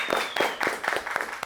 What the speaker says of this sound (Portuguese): Uma salva de palmas pro Tafa.